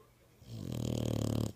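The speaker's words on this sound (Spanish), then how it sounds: "Con los ojos abiertos roncando." A dog snoring with its eyes open, a single long rasping snore that swells in after a quiet start and holds steady, close and fairly loud, with a rough pulsing texture and no talk over it.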